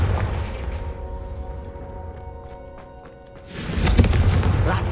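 A Confringo fire spell from Hogwarts Legacy bursts out as a loud, booming blast with a crackling roar near the end, following a quieter stretch of low rumbling game ambience.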